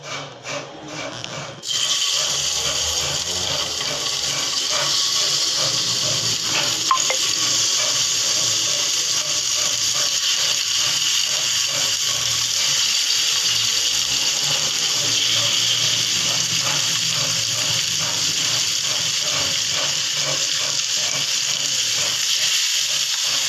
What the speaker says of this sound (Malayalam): ഇതിപ്പോൾ നമ്മൾ മീൻ പൊരിക്കുകയാണ്.